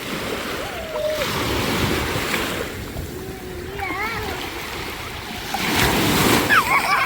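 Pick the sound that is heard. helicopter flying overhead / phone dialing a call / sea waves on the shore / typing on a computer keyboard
sea waves on the shore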